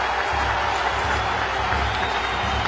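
Loud, sustained applause from a large crowd at a public address in India, dense clapping filling the full length without a break.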